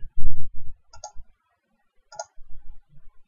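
Computer mouse clicking on a small close icon in a trading platform, with two crisp, isolated clicks about a second apart over low thumps and soft handling noise.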